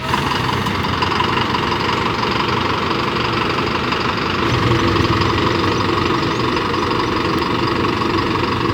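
A small rented scooter engine runs steadily on a road in the Sapa valley of northern Vietnam, a continuous close mechanical drone with wind rush, no talk.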